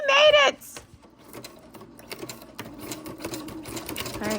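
A sewing machine stitches through a paper plate in a quick loud burst of rapid needle strokes, then the motor stops and quieter handling noises and faint background sounds carry on.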